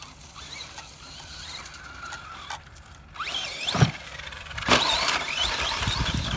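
A Traxxas Slash 4x4 VXL brushless RC car fitted with crawler tires drives and revs at moderate distance, its motor whining and rising in short pitch sweeps, with a louder surge near the end.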